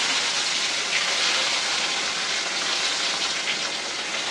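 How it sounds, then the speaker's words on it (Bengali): Rohu fish frying in hot oil, a loud, steady, close sizzle that hisses evenly without a break. "এই যে আমি এখন ভাজবো রুই মাছ।"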